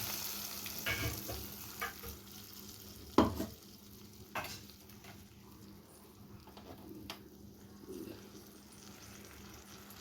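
Ground spice paste for rasam sizzles quietly in a hot pan, with occasional scraping stirs and soft clinks over a low, constant frying hiss.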